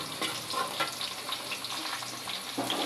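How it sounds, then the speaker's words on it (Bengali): Cumin, bay leaf and cinnamon fry in oil with onion in a pan, giving a steady, moderate sizzle with faint crackles throughout and no talking. "এই যে এটা একটু জিরাটা একটু ভাজা দিয়া নেব"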